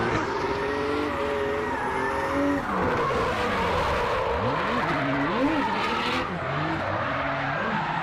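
A Mercedes-AMG sleeper drifts at a Teesside track day, its engine note rising and falling in loud, swooping revs over continuous tire squeal and skidding, close and sustained throughout.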